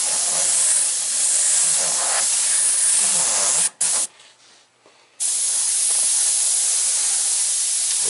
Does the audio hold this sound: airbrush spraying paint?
yes